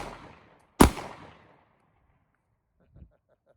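A single sharp, loud gunshot from a 1911 handgun chambered in 22 TCM fired outdoors, with a short decaying echo, followed by a faint click and a brief soft sound near the end.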